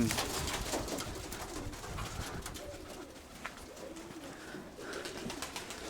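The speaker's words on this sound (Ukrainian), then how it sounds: "голуби молодь якась скажена, вгору рве" Young pigeons coo softly over a steady rushing background noise, their low calls repeating now and then throughout.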